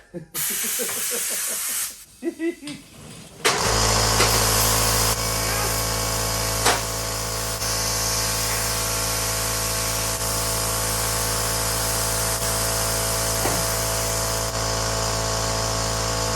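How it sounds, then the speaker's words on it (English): An air compressor runs in a motorcycle workshop during a 1982 Honda XR500R scrambler build, a loud steady hum with a constant hiss starting a few seconds in after some brief handling noises, unbroken to the end. "Told myself I was gonna turn the compressor off for this part."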